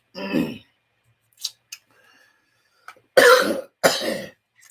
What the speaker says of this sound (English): I hate that cough that I have right now